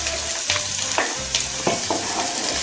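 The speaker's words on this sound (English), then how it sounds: "we're going to put all the onions that we cut into the hot oil" Chopped onions sizzle steadily in hot oil for a vegetable lasagna, a close, continuous frying hiss broken by a few soft stirring scrapes.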